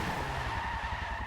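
A race car in Forza 7 skids on the tarmac with tires scrubbing over a steady engine drone, a loud, continuous blur of motor and friction lasting just over a second.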